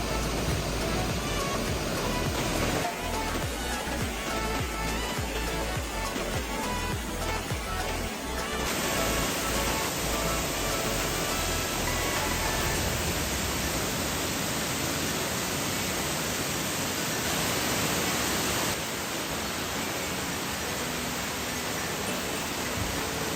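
A forest stream flows along a shady mountain trail through evergreen jungle on Doi Inthanon, a steady broadband rush of running water that shifts slightly in tone partway through, with no voices.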